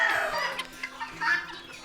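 Domestic geese and other poultry in a pen give close, loud clucking and honking calls in uneven bursts, with no talk over them.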